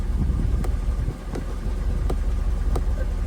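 A Mercedes E55 engine idles steadily after starting, producing a continuous low rumble with faint periodic ticks, close and fairly loud and heard without any voices.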